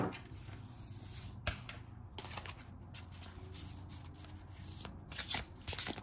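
Tarot cards are shuffled up close, with repeated soft riffling and slapping bursts in an uneven rhythm, faint and without talk.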